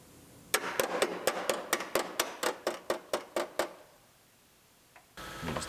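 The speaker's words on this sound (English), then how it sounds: "Hammer our little tab flat." About fourteen sharp, evenly spaced hammer blows flatten a small metal tab on a vehicle body panel after spot welds are drilled out. Each close, ringing strike is followed by a pause, then a brief louder noise at the end.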